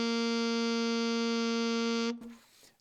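A single steady, buzzy low G sounds on an alto saxophone and is held for about two seconds at strong volume, then cuts off with a short breathy tail.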